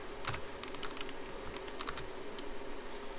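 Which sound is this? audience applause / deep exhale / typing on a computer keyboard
typing on a computer keyboard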